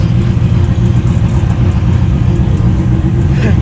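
Car with a freshly built Ford 363 stroker engine running on the street, a loud, close, dense engine rumble sustained throughout.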